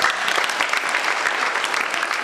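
Sustained audience applause during a church service, many hands clapping steadily and fairly loud throughout, with no voices standing out.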